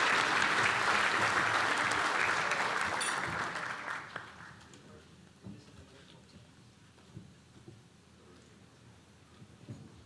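Audience applause at a city's State of the City address, loud, dense clapping that fades away after about four seconds, leaving a quiet room with a few scattered claps and small noises.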